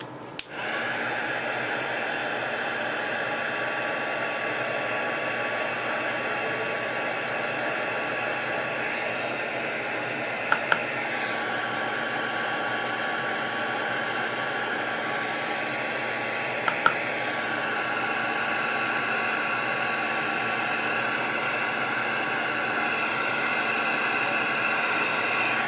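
Heat embossing tool melting Ultra Thick embossing enamel, a steady loud whooshing blower hum that runs without a break from start to finish, with a couple of faint clicks partway through.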